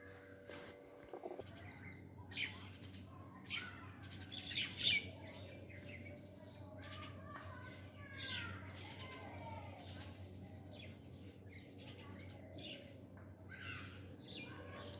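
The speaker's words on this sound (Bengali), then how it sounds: "পাখির কিচিরমিচির কলতান শব্দ কার না ভালো লাগে।" A mother bird brings food to her chicks amid a lively stream of small birds' chirps, tweets and squawks, busiest early on, over a steady low hum in the background.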